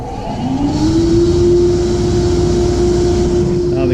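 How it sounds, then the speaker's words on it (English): Blower of a Virtus C30-60 boot granulator switching on and running, a loud steady machine drone with a rising tonal whine that settles into a constant hum, alone without talk. "First the blower."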